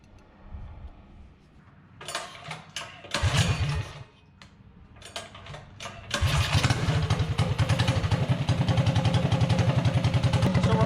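A mini bike's small engine, carburetor freshly adjusted, starts after a few stuttering tries, then settles into a steady, fairly loud low idle with a rapid even putter.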